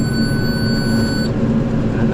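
A bale wrapper run off a tractor's PTO gives a steady electronic beep with a sustained tone, heard over the constant drone of the tractor engine. The beep stops partway through while the engine noise carries on.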